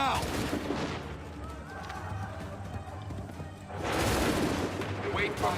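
Musket volleys crack out in an Assassin's Creed 3 battle, a dense burst of gunfire at the start and another loud barrage near the end, with shouted commands and a battlefield din between them.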